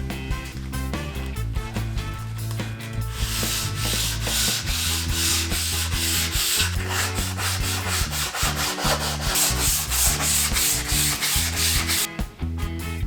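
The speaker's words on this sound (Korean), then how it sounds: "샌딩은 항상 나무의 결 방향으로 사포를 밀어줍니다." Steady, rhythmic rasping of sandpaper rubbing along the wood grain of a semi-finished wooden desk organizer, close up, continuing without pause over background music.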